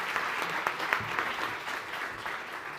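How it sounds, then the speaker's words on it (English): A conference audience applauds as Bill Nye is welcomed onto the stage, a steady, dense wash of clapping from a crowd in a hall that holds throughout without letting up. "please give a round of applause for Bill"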